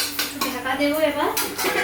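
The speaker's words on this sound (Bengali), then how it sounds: "ঢাকা দেবো, আরেকটু ফুটুক।" A cooking pot of jackfruit, potato and egg curry gets its lid set on, giving a few close metallic clinks and clatters over a soft simmer.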